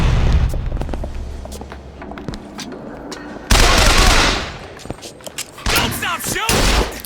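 Rapid gunfire in the video game Bioshock Infinite, with bursts of shots and heavy booming blasts in loud clusters, mixed with in-game voices shouting during the firefight.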